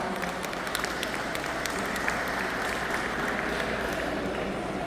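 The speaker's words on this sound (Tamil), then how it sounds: "Give them another round of applause." An audience applauds warmly after a dance performance at a pavilion event, steady continuous clapping from a crowd heard from within the room, with no voices standing out.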